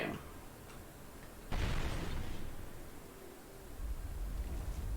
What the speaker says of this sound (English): So you press, let's say, 3, which is Fireball, and then you cast it